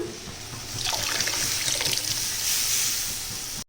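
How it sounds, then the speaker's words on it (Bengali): Hot water is poured into a pot of cooking chickpea dal, giving a steady close splashing and trickling rush that swells and then cuts off abruptly. "গরম জল দিলাম"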